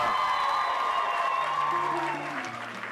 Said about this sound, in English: please put your hands together with a massive round of applause for our national director